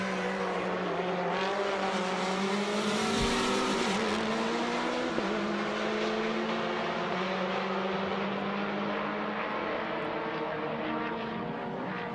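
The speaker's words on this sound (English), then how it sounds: "hearing the cars go down the front straight next to us" Race car engines, including quieter turbo cars, roar past one after another down the front straight at Circuit of the Americas, pitch sliding as they go by close, a steady loud mechanical drone throughout.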